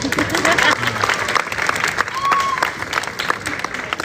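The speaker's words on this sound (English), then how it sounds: "everyone claps if I catch it" An outdoor crowd at the Fremantle Easter Arts Festival breaks into applause after a magician catches a thrown knife, dense clapping that swells at once and fades over a few seconds with some cheering mixed in.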